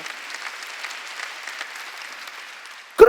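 A church congregation at a Sunday worship service claps together in a steady, moderately loud round of applause that carries through the hall, ending with a sharp knock or thump.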